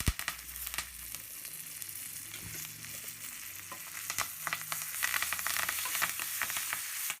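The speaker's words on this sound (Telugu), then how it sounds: "బటర్ పూర్తిగా వేడెక్కి కరిగిన తర్వాత దీనిలో జీలకర్ర, ఆవాలు, ఎండుమిర్చి, వెల్లుల్లి రెబ్బలు, తర్వాత కరివేపాకు కూడా వేసి వేగనివ్వండి." Cumin, mustard seeds, dried red chillies, garlic cloves and curry leaves fry in melted butter, a soft, crackling sizzle with scattered pops and spits, fairly faint and steady, with occasional stirring scrapes and no voices.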